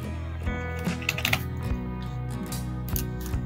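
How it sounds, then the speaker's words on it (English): Computer keyboard keys tapped in short irregular bursts at a desk during graphic design work, light clicks over a steady low hum, fairly quiet and close. "So let's type in the number there."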